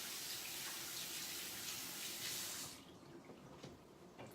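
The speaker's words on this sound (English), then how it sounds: "So I'm gonna wash this off here." Water runs steadily from a kitchen sink faucet as something is rinsed off, a loud broadband rush that cuts to a quieter trickle and scattered drips partway through.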